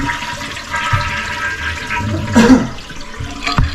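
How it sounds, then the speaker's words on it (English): A toilet flushing during a float replacement, with water swirling and draining in a steady rush, plus a couple of knocks and clunks close by. "While that's flushing out"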